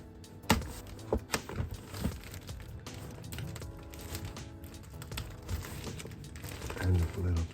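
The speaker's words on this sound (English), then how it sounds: "Cut this open." A mail package holding comic books being cut open and torn, with crinkling plastic and paper, sharp snips and rips near the mic, and quiet talk over the handling.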